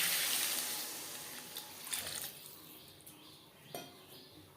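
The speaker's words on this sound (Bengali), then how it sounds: "নাড়াচাড়া করে নেওয়ার পর দিয়ে দেবো জল।" Water is poured into a pan of spiced vegetable stalks and potatoes over a high gas flame for a rohu fish curry: a bright rushing hiss that fades, followed by scattered clinks and stirring taps.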